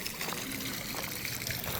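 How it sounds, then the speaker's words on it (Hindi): A small fountain in Interlaken trickles and splashes steadily outdoors, a soft continuous patter of falling water filling the short stretch with no voices over it. "ये यहाँ पे एक छोटा सा फाउंटेन"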